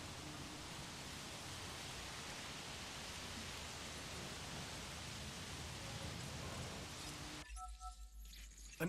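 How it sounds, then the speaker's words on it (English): Steady, dense hiss of heavy rainfall in the dinosaur park game Jurassic World Evolution, a continuous even wash of drops that cuts off abruptly near the end into a much quieter, sparser tail. "Look at this rain. Just like looking out of a window."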